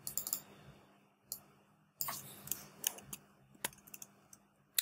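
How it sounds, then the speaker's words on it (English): Someone types on a computer keyboard at close range, producing irregular bursts of sharp key clicks separated by short pauses, with no talk. "I'm just typing up some copy and I'll edit it at a later point"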